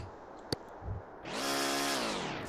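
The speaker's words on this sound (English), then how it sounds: "Drill." A heist drill in the video game Payday 2 spins up after a short click and a thump, then runs as a steady, loud, buzzing whine with a slowly falling pitch.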